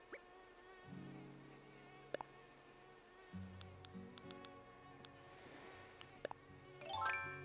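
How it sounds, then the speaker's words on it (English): A mosquito whines in a thin, wavering drone that comes and goes, quiet under a gentle game music background with a few soft chimes and tinkles. "I want that mosquito to buzz off"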